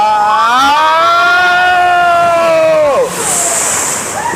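Water rushes and splashes over riders on a log-flume style ride at Disney World, a steady loud roar with rising whistling tones, then a hiss of spray as the boat lands.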